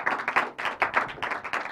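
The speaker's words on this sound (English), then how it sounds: "Let me tell you why you clap when he talks" Audience clapping at a business conference call event in Melbourne, Florida, a dense burst of many hands applauding together, close and lively throughout.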